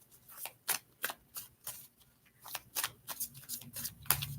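Tarot cards are shuffled in quick repeated bursts, crisp papery riffles following one another in an uneven rhythm, close and fairly quiet with no talking.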